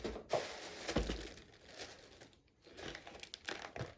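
Crinkling and rustling of a plastic parcel bag from AliExpress being unwrapped up close, in a few irregular bursts with short pauses.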